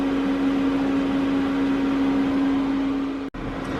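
RV furnace running with its blower fan and burner on, a steady whooshing airflow with a low constant hum, heard close and without voices until a brief dropout near the end.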